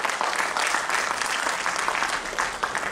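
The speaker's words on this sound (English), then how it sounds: "a big round of applause from our audience here" An audience at a startup policy event in Bihar claps in steady, sustained applause, a dense wash of hand claps at even loudness throughout, with no talk over it.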